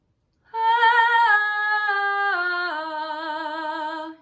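Singer's sustained sung tone in a circle-breath breathing exercise for vocal technique, one steady voiced note with slight wavering that steps down in pitch twice, close and clear after a moment of silence.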